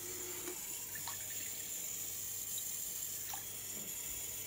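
Tap water runs steadily into a large measuring jug, a continuous close hiss and splash with no talk and no change in level throughout.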